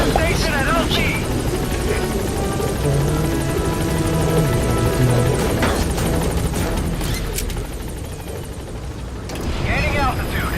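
Pequod, the support helicopter in Metal Gear Solid V: The Phantom Pain, hovers at a landing zone with a loud, steady rotor and engine roar throughout, briefly dipping near the end, while a voice speaks over it.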